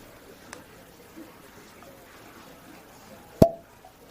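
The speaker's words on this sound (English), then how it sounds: "Let's go ahead and pop the cork on this spirit and take a look at it in the glass." A cork pulled from a bottle of whiskey gives one sharp, close pop near the end, with a fainter tap earlier over quiet room tone.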